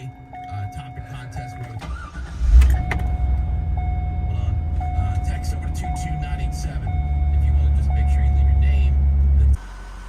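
A 1971 Camaro restomod starts with a brief cranking thump and settles into a deep, steady idle rumble that swells slightly as it moves out of the garage, with a repeating warning chime above it and people talking.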